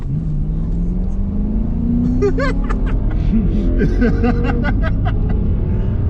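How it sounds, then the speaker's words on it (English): A 2020 Chrysler 300S sedan's engine revs and accelerates hard, its pitch climbing steadily under a constant road rumble, with faint voices and laughter inside the cabin. "let go of that brake and just punch it, those rear wheels will spin"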